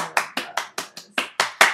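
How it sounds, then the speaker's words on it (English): A single person claps nine times in a brisk, even rhythm, each sharp slap close and distinct with brief decay between strikes, no voices over it. "Round of applause."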